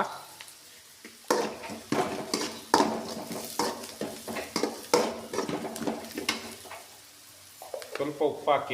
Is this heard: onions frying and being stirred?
yes